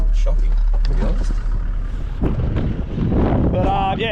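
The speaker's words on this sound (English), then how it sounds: "Very windy, isn't it?" Strong wind on a farm buffets the microphone in loud, continuous low rumbling gusts, with a person speaking briefly near the end.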